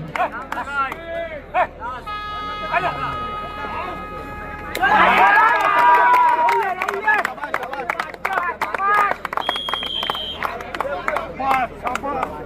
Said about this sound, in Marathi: जोरदार टाळ्या होऊन जाऊ द्या मित्रांनो या स्पीड साठी.